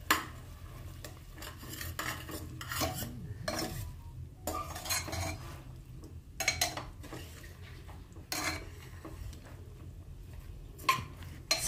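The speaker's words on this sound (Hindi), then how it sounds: "और इसको भी थोड़ा सा मिक्स करेंगे और भून लेंगे दो मिनट।" Spiced potato and eggplant (aloo baingan) is stirred and fried in a pan, with a spoon scraping and clattering against the metal in irregular bursts over a soft sizzle, close and fairly quiet.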